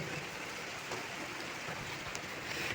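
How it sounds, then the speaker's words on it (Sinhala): Steady broadband hiss of rain falling continuously outdoors, a dense even patter with occasional drips, with no voices. "ආද අපිට වහිනවා උදේ ඉඳලා හැන්ද වෙනකම් රැ වෙනකම් තාමත් වහිනවා"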